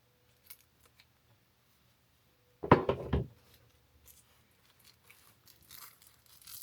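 Scissors cut into plastic toy packaging in a short burst of crisp snips and crinkles lasting under a second, close and distinct against an otherwise quiet room with faint handling noises.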